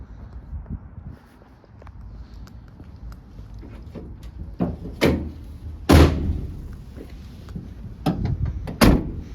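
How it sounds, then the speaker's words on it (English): Rear doors of a 2020 Citroen Dispatch 1.5 BlueHDi van being handled, with several sharp metallic clunks and latch thuds spaced out over quiet shuffling, the loudest slams near the middle and end. "Both doors open and lock there."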